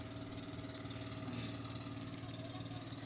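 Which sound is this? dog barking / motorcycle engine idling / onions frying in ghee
motorcycle engine idling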